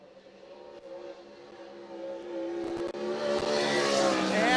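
A 410 sprint car screams through a qualifying lap at a dirt-track Front Row Challenge, its engine note rising steadily from distant to loud and close as it approaches and roars past.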